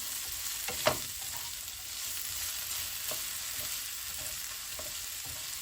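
Onions for a venison-bacon pie fry in a pan with a soft, constant sizzle, broken by a few sharp clinks and scrapes of stirring, close and fairly quiet.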